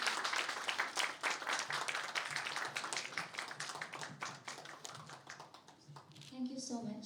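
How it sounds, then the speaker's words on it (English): A crowd claps at a Miss Universe Meghalaya launch event at the Vivanta hotel in Shillong, with dense, sustained applause that thins out toward the end as a voice comes in. "Come on, a huge round of applause."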